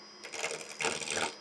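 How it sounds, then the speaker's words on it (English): A wood lathe spins a wooden blower handle for a blacksmithing forge while a hand-held gouge rounds and smooths it. The close, rough scraping whir swells in two surges over a steady motor drone. "we're going to go ahead and start this process by just using a gouge to just get this thing round"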